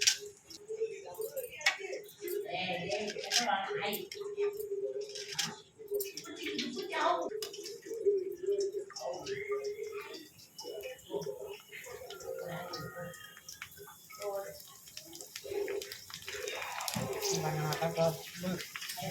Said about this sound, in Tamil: இப்போ நம்ம பூரியை பொரிச்சிக்கலாம்.